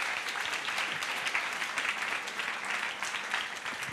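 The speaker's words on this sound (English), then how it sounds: "Why don't we give Tyler a huge round of applause?" Applause from a church congregation welcoming a guest preacher, a steady dense wash of many hands clapping at moderate level throughout, with no speech over it.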